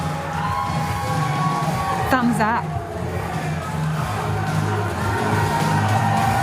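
Crowd cheering and whooping at a 2023 New Zealand election night party as Christopher Luxon takes the stage, a steady roar throughout with a brief whistle-like squeal, under a commentator's talk.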